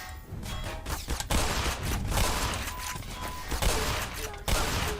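Rapid, dense gunfire bursts from the Black Mesa shooter game fill the clip continuously, loud and overlapping with sharp repeated shots and clatter throughout.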